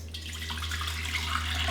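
Liquid streams steadily into a gallon jug as a sweet tea base is poured, a continuous close splashing gush with a low hum underneath and no speech.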